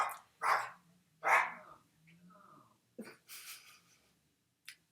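A dog barks several times close by, sharp separate barks spaced out with short pauses, a soft growl and breathing in between.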